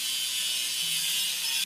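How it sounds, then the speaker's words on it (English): Grinding a welding seam on a crack in a cartoon crane with a cargo bed in a kids' repair game: a steady, loud hiss of grinding runs unbroken for under two seconds, then cuts off abruptly. "Let's grind the welding seam."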